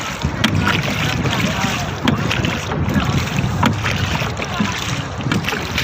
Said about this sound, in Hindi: पानी का आवाज है, पानी जा रहा डाउन, उसी का आ रहा साउंड।